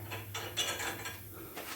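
Nuts are tightened onto a leaf spring on a square-body truck being lowered three inches, with a quiet, rapid ratcheting of a wrench in short bursts.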